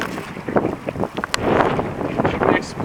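Strong wind gusts on open water during a canoe trip, heard as loud rushing and buffeting against the microphone, with scattered voices and paddle or boat noises close by.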